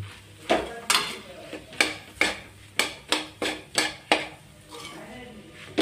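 Boiled potatoes mashed in a pan with spices for bread pakora, with a regular series of sharp metal knocks and clanks from the utensil against the pan, about a dozen strikes at an even pace.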